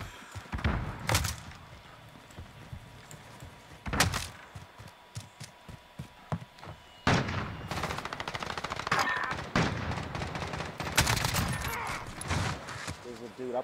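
Gunfire in a Call of Duty match, with loud, sharp bursts and rapid automatic volleys in irregular clusters, denser and sustained in the second half, along with occasional thumps.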